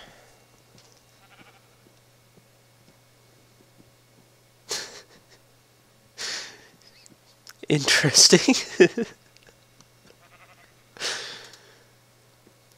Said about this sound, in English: Oh, sheep.